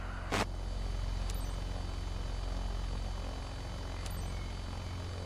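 An aircraft taxis in Microsoft Flight Simulator 2024, its engine holding a steady low droning hum with a faint propeller buzz, interrupted by a couple of brief sharp clicks.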